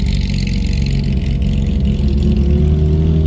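A Ferrari 458 rolls into a car meet, its engine revving in a steady, fairly loud mid-pitched drone that swells slightly toward the end, with no talking over it.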